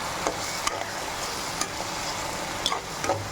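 Ground tomato paste sizzling steadily in a hot pan for a bottle gourd gravy, a continuous frying hiss broken by a few sharp spoon taps and stirring scrapes, close and alone.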